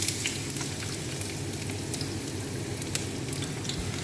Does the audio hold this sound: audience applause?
no